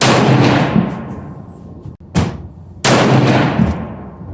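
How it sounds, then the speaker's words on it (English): A Browning AB3 bolt-action rifle in .243 is fired outdoors during barrel break-in. One sharp, loud report lets out a long decaying boom, and a second blast follows after a brief gap, with no voices. "this is the last shot of breaking in my barrel"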